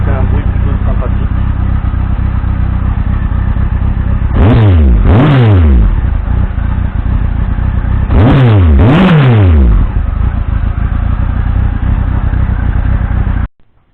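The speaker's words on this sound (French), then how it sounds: "Pour ceux qui aiment le bruit moto, donc je suis sur une double sortie à 108." A loud Kawasaki ZZR 1400 motorcycle with dual exhaust idles steadily when warm, then is revved twice in quick pairs, the pitch sweeping up and dropping back each time before returning to a throaty idle.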